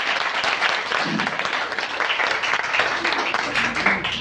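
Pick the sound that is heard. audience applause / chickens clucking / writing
audience applause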